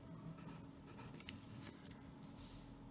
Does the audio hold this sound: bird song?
no